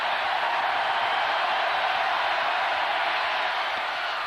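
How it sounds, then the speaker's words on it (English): Dense, steady roar of a football stadium crowd at a 1991 Houston versus Texas A&M college game, a constant broadband wash of voices with no distinct breaks for the whole stretch. "And now you can hear that crowd."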